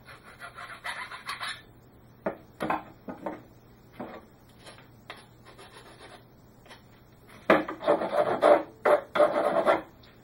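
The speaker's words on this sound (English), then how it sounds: "You can clean up the ends with a file." Bursts of rasping, scraping file strokes cleaning cut metal pipe ends, in uneven clusters separated by short pauses, with a steady low hum underneath.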